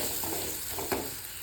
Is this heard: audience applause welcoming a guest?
no